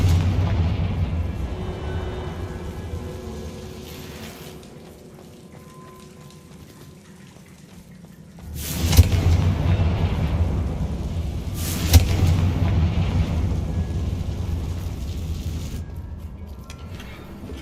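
Two loud magical blasts from the Confringo spell in Hogwarts Legacy, one heavy boom then a second a few seconds later, each with a rumbling tail over a low ambient game background.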